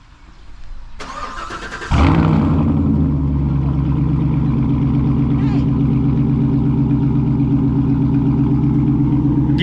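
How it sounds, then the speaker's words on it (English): A hot rod pickup truck's engine cold-starts in the morning, cranking briefly before catching with a loud burst and settling into a deep, lumpy, rumbling idle close by, with faint talk before it. "Get that little cold start going in the morning, and the last hot rod sound my truck will make here"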